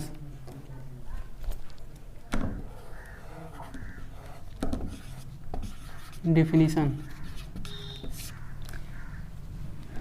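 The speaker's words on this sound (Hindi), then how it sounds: "इसी बात को अब हम लोग लिखेंगे" Chalk or marker scratching across a board in a physics classroom lesson on light, a steady run of short scraping strokes heard close amid soft room noise, with a teacher speaking around them.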